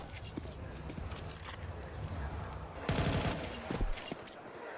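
Counter-Strike 2 AWP sniper rifle fire at a professional match, a sharp burst of shots around the middle of the clip amid constant crowd and caster chatter, with a busy game soundscape throughout.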